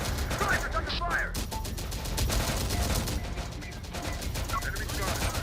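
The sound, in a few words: gunfire in a video game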